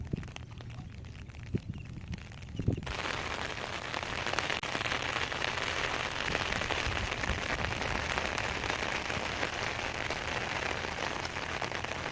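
Rain pours steadily onto a rice seedbed, a dense even patter that starts lighter with a few knocks and swells into a full downpour after a few seconds.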